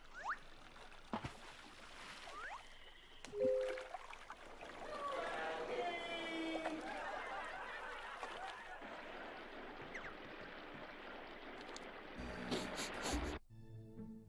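Water gushing and gurgling through pipes in a Scooby-Doo video game, a steady wet rushing flow over several seconds with scattered game effects and a short burst of clatter near the end.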